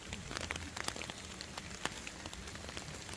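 Rain falls on a mountain hiking trail on Mount Prau, a soft, steady patter of drops with scattered sharper taps, fairly faint and close, with no talking.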